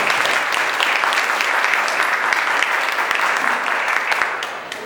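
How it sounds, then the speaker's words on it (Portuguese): An audience claps steadily for about five seconds to welcome a speaker to a church talk on relationships, a dense, even round of applause that tapers slightly at the end. "As palmas para receber a nossa palestrante."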